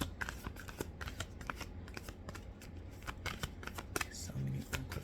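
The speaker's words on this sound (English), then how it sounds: "Let me use this Oracle deck." An oracle card deck being shuffled up close, a dense run of quick riffling card flicks with a few sharper snaps, quiet and alone with no talk.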